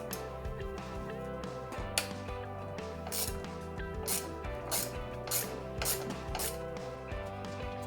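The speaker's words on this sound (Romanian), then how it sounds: "Folosind un Torx T30 vom desface șurubul." A Torx T30 driver loosens a screw on the intake manifold flap linkage of an Audi/VW/Seat engine, giving a steady run of quiet, close ratcheting clicks in an even rhythm.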